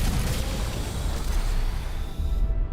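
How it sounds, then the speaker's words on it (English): A large ship blowing up in the space game X4: Foundations, a loud sustained rumbling boom that rolls on for nearly three seconds and then fades. "All right, this thing's about to blow."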